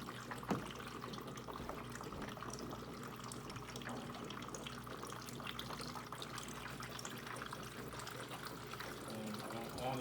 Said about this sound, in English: you see that water starts flowing down through the system